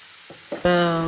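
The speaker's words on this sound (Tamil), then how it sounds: "அரைச்சி வச்ச பேஸ்ட்டை ஆட் பண்ணிவிட்டு நல்லா வதக்கி விட்டுக்கோங்க" Ground paste hits hot oil with brinjal in a pan, starting with a couple of soft scrapes before a sudden loud sizzle flares up and holds to the end.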